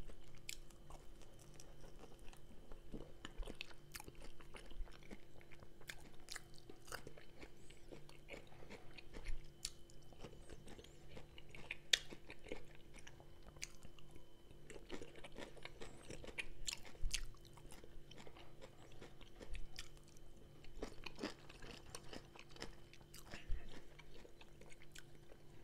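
Close, quiet crunching and biting on a crispy fried Azerbaijani pastry, with irregular crisp bites and steady chewing throughout and no talk.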